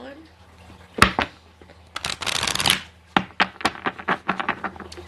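A regular tarot deck being shuffled by hand, a sharp riffle then a longer rippling burst followed by a run of quick crisp card slaps, close and clear with no voice over it.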